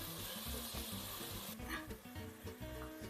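Pasta and vegetable sauce with salt, black pepper, chilli flakes and red pepper sizzles quietly in a pan while being stirred, with soft rhythmic scraping and clinking of the utensil close by.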